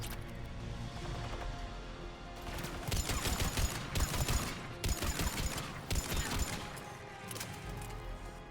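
Rapid bursts of gunfire fill a firefight in the video game Mass Effect 3, loud repeated volleys stuttering in rhythmic clusters over several seconds amid ongoing game sound, with no talking.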